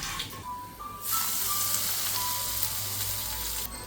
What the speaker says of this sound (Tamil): கடுகு உள்ள பருப்பு கடலைப்பருப்பு நிலக்கடலை போட்டு தாளிச்சுட்டு அப்படியே எடுத்து கொட்ட வேண்டியதான்